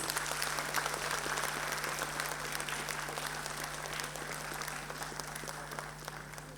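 Parents applauding at a school annual day function, a dense, steady round of clapping from a large crowd that holds at a constant level throughout, with a low steady hum underneath.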